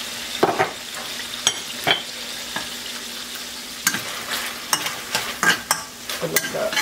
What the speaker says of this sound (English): Then we're going to add green onions and chopped garlic.